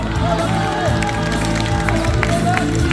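A quiz show audience applauds continuously in a dense, even wash of clapping, with some voices mixed in.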